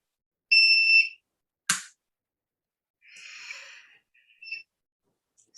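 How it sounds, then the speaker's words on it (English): After a power outage an electronic alarm gives a few short, shrill beeps at irregular intervals in a quiet room. A brief sharp noise comes between the beeps. "Excuse the beeping, we lost electricity"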